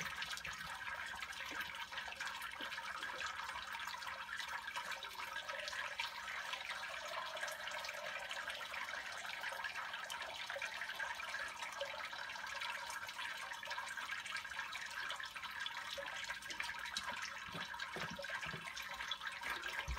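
Wort draining out while brewing an amber ale: a steady, even rush of flowing liquid, close and continuous with no clear breaks, with no talking.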